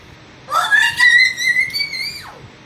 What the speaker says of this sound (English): that's just my sister yelling about Genshin Impact